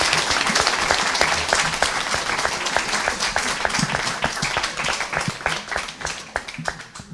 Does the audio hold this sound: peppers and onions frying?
no